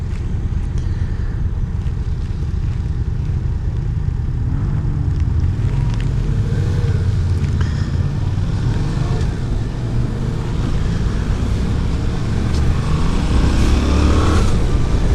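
Yamaha Tracer 700 motorcycle engine running steadily while riding, a continuous loud drone with rising and falling revs and heavy wind rush throughout, no voices.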